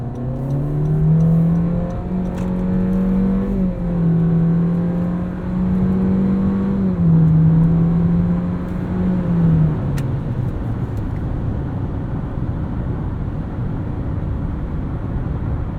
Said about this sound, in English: Let's throw it into sport mode and see how it does on this entrance ramp.